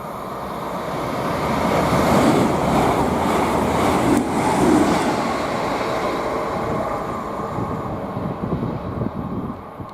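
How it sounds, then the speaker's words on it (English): A Grand Central Voyager train heading to Bradford Interchange passes on the East Coast Main Line at Potters Bar, a steady loud rumble and rail roar that swells and holds for several seconds before easing off, with no talk. "the next train to pass by, we've got a Grand Central Voyager heading to Bradford Interchange, 221142"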